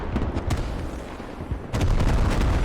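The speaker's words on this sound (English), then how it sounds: "It is a creeping barrage clearing a path for this US push off the hab coming in from the southeast" Shells from a creeping artillery barrage land in the video game Squad as a heavy, continuous series of booms and blasts, loud and close, growing denser in the final second.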